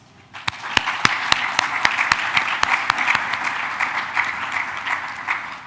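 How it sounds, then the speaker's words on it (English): Audience applause for a panel of speakers at a research-to-policy stakeholder forum, building quickly into steady clapping with a few sharp, close individual claps standing out above the crowd. "I would like you to give this group of panelists a huge round of applause"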